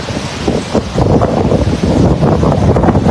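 Strong storm wind roaring steadily against the microphone outdoors in southern Thailand where elephants are kept, a loud continuous rushing blast that barely lets up.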